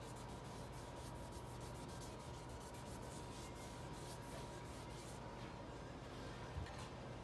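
A speaker enclosure's 2K clear coat over Krylon paint is wet sanded by hand, producing a faint, continuous rubbing and scratching that stays even throughout with no voices.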